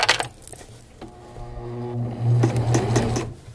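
A sewing machine stitching fabric on a crotch seam, with short bursts of rapid mechanical whirring and needle clatter, close and fairly loud, broken by brief pauses and a clink or two.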